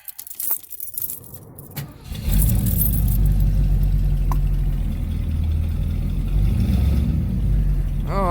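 A jangle of keys and clicks, then the engine of a 1977 Mercury Marquis hot rod starts and revs, settling into a loud, steady rumble.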